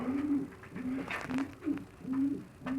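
Silver pigeons from Kuwait coo in a loft, a steady run of low, rolling coos close by, repeated about every half second.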